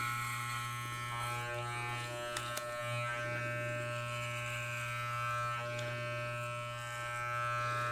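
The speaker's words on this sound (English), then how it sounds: "You just let the shaver do the shaving." A steady electric shaver buzz holds throughout during a bowl-cut haircut, a constant mechanical hum with faint scraping and clicks layered over it, close to the listener.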